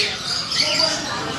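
A cockatiel gives a harsh, sustained squawk lasting about a second, loud and close over a noisy background.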